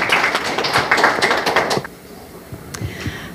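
Applause welcoming a speaker at a volunteer program briefing in Busan, a short burst of close, dense clapping that breaks off after under two seconds, followed by a few scattered claps.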